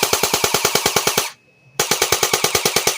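A JG Mac 10 airsoft electric gun firing fast, loud full-auto bursts close by, then a brief pause and a second burst at the same rapid, even rate.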